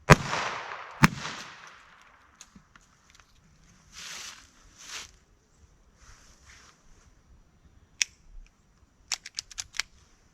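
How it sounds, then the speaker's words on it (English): A handgun fires two sharp reports about a second apart at close range during a three-yard target test; the first rings out and decays, followed by scattered softer clicks and handling knocks. "I fired two shots."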